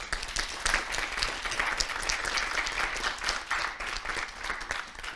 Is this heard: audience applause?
yes